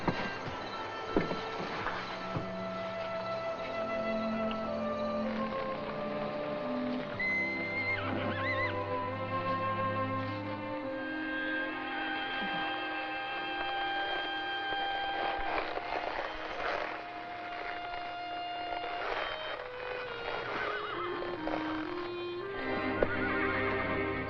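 Chincoteague ponies being driven back through town neigh and whinny repeatedly over a steady bed of clopping hooves, with the herd sounding close and continuous throughout.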